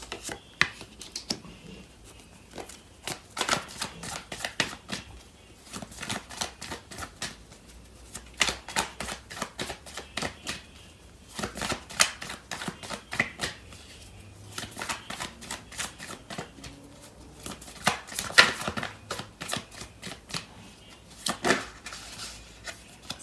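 Tarot cards shuffled by hand for a love reading, a steady run of crisp riffling and flicking bursts with brief pauses between handfuls, close and moderately quiet with no talking.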